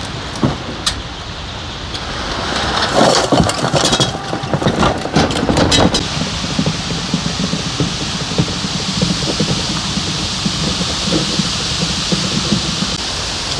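Vehicle engine running steadily while driving to work through a forest area, a continuous close rumble with rattling and knocking over the first few seconds, then a smooth sustained drone.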